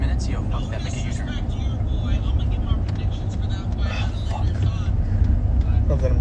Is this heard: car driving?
yes